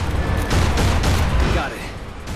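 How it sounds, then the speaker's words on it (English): Tank main gun firing in the game Prototype, heavy booming blasts amid loud battle noise lasting a couple of seconds, with a voice talking over it. "there's a tank on the road. Main gun."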